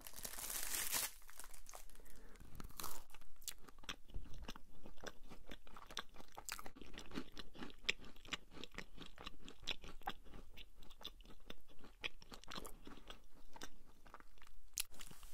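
Close, crisp crunching and crinkling as a strawberry-flavoured American snack is bitten and chewed, steady rapid crackles with packaging rustle, quiet and intimate, no talking.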